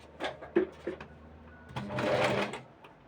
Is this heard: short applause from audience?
no